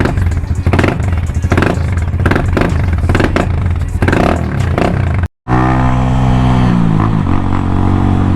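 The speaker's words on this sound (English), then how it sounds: "Little rev." A Champion 150cc Chinese motorcycle engine revving up close, loud and throbbing with rapid pulsing, cutting out for a moment before rising again in a steady, rising drone.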